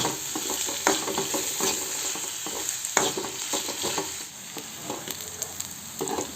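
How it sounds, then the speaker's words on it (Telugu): Onions and curry leaves fry in a pan with a continuous close sizzle, broken by frequent scraping stirs and clacks of a spoon against the pan. "ఆనియన్ కొంచెం ఫ్రై అయ్యే వరకు మనం ఫ్రై చేద్దాం"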